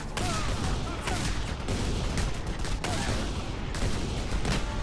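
Rapid bursts of gunfire from a shotgun in the video game Just Cause 2, dense and continuous, with layered explosive booms filling a chaotic firefight.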